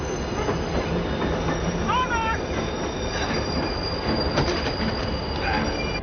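A train in a film scene rumbles steadily along its rails, with wheels squealing in high rising whines over the continuous roar, loud and close with no voices.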